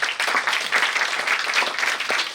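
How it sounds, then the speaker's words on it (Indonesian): An audience at an Indonesian symposium session on agrarian, environmental and ecological issues claps together in a dense, steady burst of applause filling the room. "tepuk tangan dulu teman-teman."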